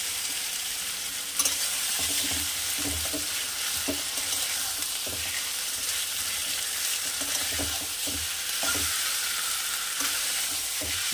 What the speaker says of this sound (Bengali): মাংসটা একটু হালকা আঁচে কষিয়ে নেব